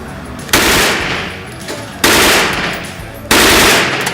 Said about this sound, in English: Another smooth sub gun. This was a closed bolt versus open.